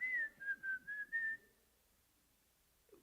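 A single person whistles a short tune of several clear pulsed notes, close and fairly soft, then stops, leaving near silence.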